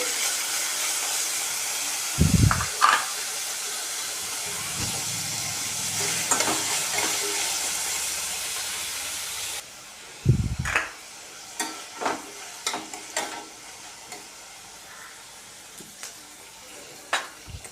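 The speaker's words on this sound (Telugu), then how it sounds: "ఉల్లిపాయలు వేసేద్దాం ఇది బ్రౌన్ కలర్ వచ్చినంత వరకు వేయించుకోవాలి" Chopped onions frying in a pan until brown for a cabbage and grated coconut curry, a steady close sizzle with a couple of stirring scrapes and clinks, no talking.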